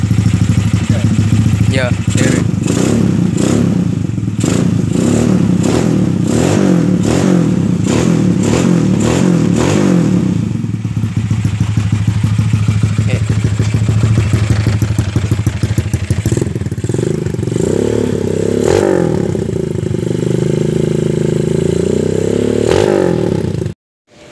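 A Yamaha Jupiter motorcycle with a 225cc engine starts up and revs hard, its loud, close exhaust rising and falling in quick repeated blips before settling into a sustained roar, with a brief word spoken.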